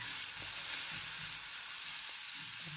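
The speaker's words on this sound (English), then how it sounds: "These take a little bit more cooking than normal mushrooms, so get them nice and crispy." St. George's mushrooms frying in butter until crisp, a dense, even hiss of sizzling fat close up, with faint low stirring bumps beneath and no voices.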